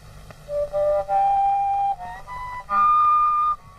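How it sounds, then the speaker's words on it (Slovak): A koncovka, the open end-blown Slovak folk pipe without finger holes, plays a few sustained whistling tones in separate breaths, rising to a higher held note at the end, close and alone. "Na zvukový pás sme zaznamenali hru na otvorenú píšťalu, takzvanú koncovku"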